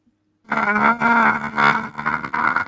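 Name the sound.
voice imitating an unearthly scream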